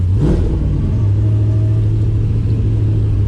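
A Toyota Hilux work truck fitted with a sequential gearbox revs hard, its engine producing a loud, close, steady droning rumble with a brief rising surge at the start.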